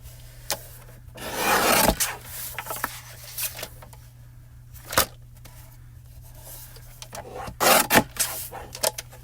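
Thick heavy cardstock being cut down to size with a paper trimmer, several rasping scraping strokes in short bursts, close and fairly loud, with quiet gaps between.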